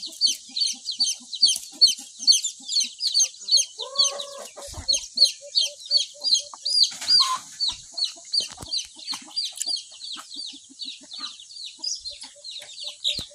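Backyard native chickens on a provincial farm cluck in a rapid, continuous rhythm nearby. Several birds call over each other, with a few brief louder squawks in the middle.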